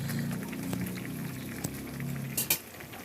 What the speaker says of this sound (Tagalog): hayaan lang kumulo para medyo ma-absorb lang din ng tilapia yung timpla ng ating sauce